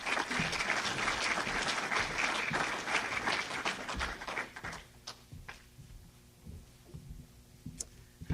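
Applause from an audience at an 8th grade promotion ceremony, dense and steady for several seconds, then thinning to a few scattered claps before dying away.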